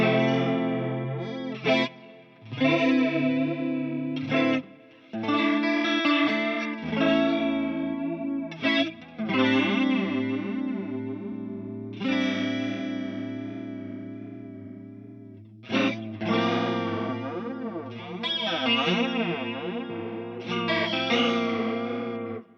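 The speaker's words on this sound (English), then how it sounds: "Clearly we're in flanger territory right now, and you can hear the effect of inverting the feedback." Sustained electric instrument notes run through a TC Electronic 2290P set as a flanger, 5 ms delay with inverted feedback, giving a hollow, metallic, comb-like whoosh that rises and falls across each held tone.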